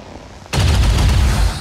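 A sudden loud burst of gunfire from the strategy video game XCOM 2, breaking over a quiet background and continuing as a sustained rattling volley.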